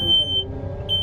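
A steady high-pitched tractor low hydraulic oil alarm sounds over a low engine rumble, cutting out briefly in the middle before resuming.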